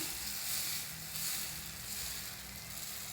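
Adai batter spread with a ladle across a hot tawa sizzles in a soft, steady hiss with faint scraping swells, close and moderately quiet, no voices.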